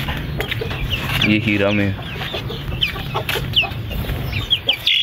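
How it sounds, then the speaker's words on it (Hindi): Domestic hens cluck steadily up close in a backyard coop, a desi hen brooding on eggs among them, with rapid clucking bursts and someone talking over the birds throughout. "ये फीमेल अंडों में बैठी है"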